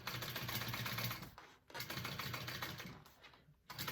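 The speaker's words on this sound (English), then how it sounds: "So I'm top stitching my seam flat." Sewing machine top stitching a seam flat on a tote bag, a fast steady mechanical whir in runs of stitching broken by two brief pauses, fairly quiet and close.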